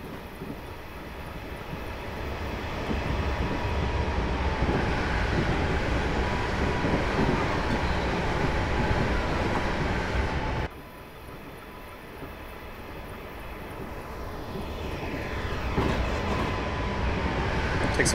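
A Class 444 electric multiple unit train in Train Simulator 2015, on the Portsmouth Direct Line, rumbles past with a steady roar that builds, cuts off abruptly, then resumes somewhat quieter and swells again.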